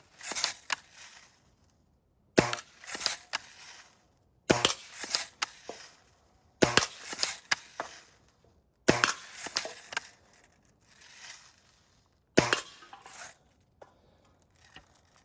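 An old Daisy 95B BB gun, about 41 years old, fires six sharp, close shots spaced a couple of seconds apart, each crack trailing into a brief rattle with quiet gaps between.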